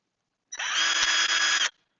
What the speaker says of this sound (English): drill, clear the flutes, drill, and cut the countersink